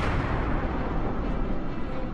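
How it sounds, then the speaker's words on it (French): A supernova, an exploding star, is rendered as a cinematic explosion effect: a dense, loud, continuous roaring rumble that holds steady for two seconds, with no voices. "des étoiles qui explosent"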